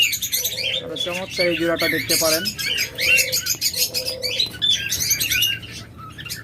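Pet lovebirds, budgerigars and finches kept for breeding chirp and tweet busily in a shop setting, with scattered squawks and brief wing flaps, while someone talks over them throughout.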